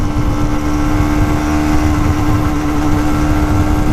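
A heavily loaded Honda CB125F motorcycle pulls steadily in fifth gear, its engine holding a loud, constant drone with a steady tone throughout and no voices.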